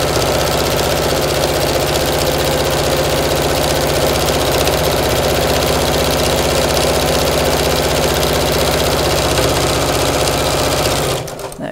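Sewing machine running steadily while stitching a tote bag, a loud, close, continuous mechanical whirr with a rapid needle rhythm that stops abruptly just before the end.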